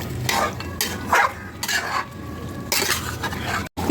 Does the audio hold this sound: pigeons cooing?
no